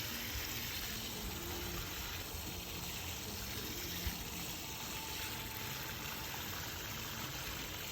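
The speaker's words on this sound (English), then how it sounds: "now hand watering them like this" Tomato plants being hand watered with a hose, a soft, continuous spray and trickle of water, quiet and steady, with no talking.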